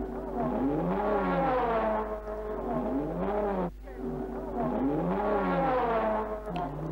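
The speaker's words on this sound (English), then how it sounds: "Back in the Cunningham pit, we waited for the number 1 car." A race car engine in the Cunningham team pit at Le Mans revs loudly and steadily in rising and falling surges, with a brief dip midway before climbing again, close and dominant throughout.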